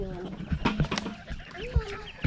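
Baby silkie chicks and other poultry on a farm during morning chores, short clucks and chirps close by, with a person speaking softly among them.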